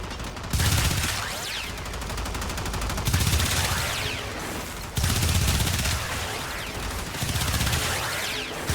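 Dual Toxocyst pistols in Warframe firing in long rapid bursts, loud and close, with brief gaps between strings of shots and no talking.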